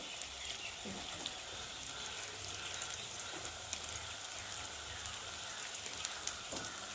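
Country chicken fries in a pan before spices are added, giving a faint, steady sizzle like light rain that continues evenly throughout, with no voices.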